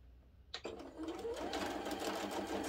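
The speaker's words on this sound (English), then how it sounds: "sew down that line" A sewing machine starts after a brief quiet moment and stitches steadily down a line of quilt-block fabric, its fast even whir close and continuous to the end.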